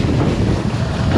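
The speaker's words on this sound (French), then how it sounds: "le vent il est monté" Strong wind blows during kitesurfing on a river, a loud, steady roar buffeting the microphone with dense low-frequency rumble and no voices.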